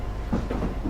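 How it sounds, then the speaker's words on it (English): A train rumbles past at close range in Dovetail's Train Simulator while another train is being overtaken, giving a brief, steady low roar with faint clattering over about a second. "And we're overtaking another train there."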